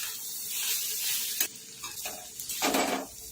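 A spoon stirs a vegetable stuffing for spring rolls, seasoned with red chilli, vinegar and tomato ketchup, in a hot pan. It gives soft sizzling and a few distinct scraping strokes, with no voices.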